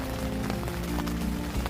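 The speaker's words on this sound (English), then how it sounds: "The rain just doesn't want to seem to let off today" Steady rain patters on a surface outdoors during a rainy day on a bike tour from Lucerne to Ljubljana, a dense continuous wash with occasional louder drop hits and a low rumble underneath.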